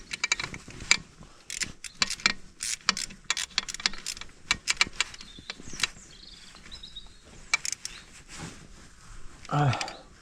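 Ratchet with a 10 mm socket working on a car starter, close rapid clicking bursts repeating irregularly, with speech in between and a brief louder rustle near the end.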